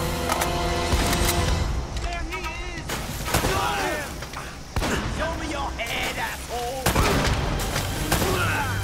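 Gunshots in the video game Uncharted: Drake's Fortune, several sharp bangs and booms scattered through a busy combat scene with music and game effects, a voice talking over part of it.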